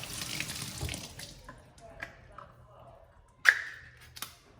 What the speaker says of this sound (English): Let me get this other can rinsed.